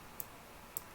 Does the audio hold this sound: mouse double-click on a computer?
yes